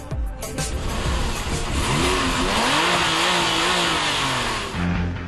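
A Porsche 911 sports car engine revs hard and climbs in pitch, roaring loudly and steadily with shifting tones, no voices present.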